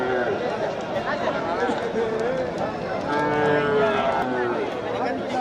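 Several Jersey cattle moo in long, low, drawn-out calls at a livestock market in Melur, overlapping with constant crowd chatter and voices nearby.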